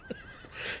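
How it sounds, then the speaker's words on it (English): A horse in Red Dead Redemption lets out a short, quavering whinny, close and clear, rising into a breathy snort at the end, with no voices. "Look at that horse. War horse."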